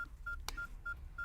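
Push-button phone dialing: four short, even DTMF tones at a steady pace, with a brief click between them, over a quiet low hum.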